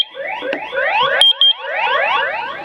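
A loud electronic alarm wails with repeated rising sweeps, broken briefly by a few high beeps, continuous and close.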